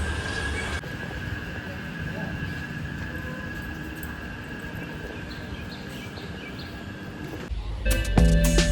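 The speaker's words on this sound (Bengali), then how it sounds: "অবশেষে আমাদের ট্রেন চলে এলো নিউ মাল জাংশন স্টেশনে।" A train pulling into New Mal Junction station in the Dooars, a continuous rumbling rolling noise with a steady high whine, then a louder clattering burst of wheels at the end.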